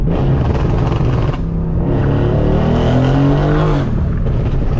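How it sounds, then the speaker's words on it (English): A Mercedes C63s AMG with a muffler delete and PTG1000 setup backs up with no throttle, its exhaust a loud, close, raspy burble that swells and dips throughout. "Listen to this thing back up, bro. Like, we're just reversing, no gas."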